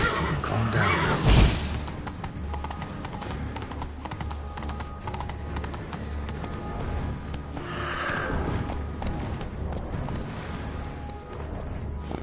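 Roach the horse in Witcher 3 gallops with steady rapid hoofbeats, whinnying loudly at the start and again partway through amid game ambience.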